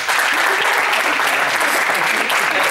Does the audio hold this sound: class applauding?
yes